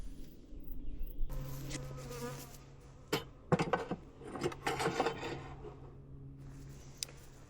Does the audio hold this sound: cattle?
no